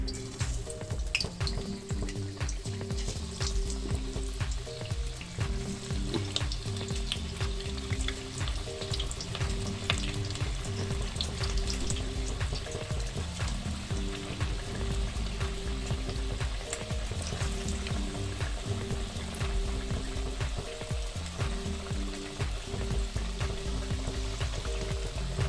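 Kashmiri nadru tikki, lotus stem patties, frying in hot oil, a continuous loud sizzle and crackle of bubbling oil running steadily throughout with no voices.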